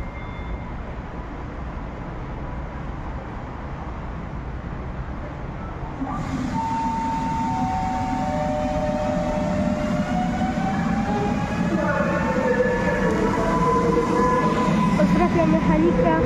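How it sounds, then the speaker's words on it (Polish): Passenger train departing a station on the Katowice–Racibórz line in Poland, a steady low rumble that grows louder after a few seconds, with rising and falling whining tones from the moving train, heard alone with no talk. "Mamy odjazd pociągu osobowego do Raciborza."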